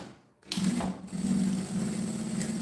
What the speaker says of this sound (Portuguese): E vou passar a costura.